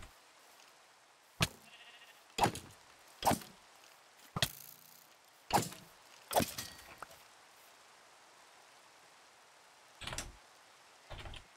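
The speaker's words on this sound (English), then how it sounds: "I found a sheep." A sheep in a video game gives a series of short, sharp bleats spaced a second or so apart, then a pause and two more calls, each sounding close and clear against a quiet background.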